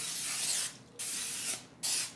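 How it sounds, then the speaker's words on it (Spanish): Cooking oil spray hisses onto a baking tray in two close bursts with a short pause between, loud and near with no voices. "Le vamos a poner un poquito de aceite en aerosol."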